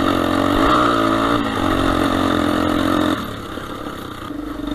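A Honda SP200 dirt bike engine runs loud and steady, holding high revs before dropping to a lower, rougher idle.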